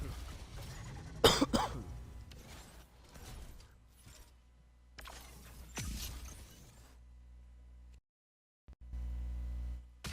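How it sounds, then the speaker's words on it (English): Several coughs from a sick person scattered through the clip, one sharp loud burst early and another later, with quieter rustling and handling noise between. "I apologize for coughing."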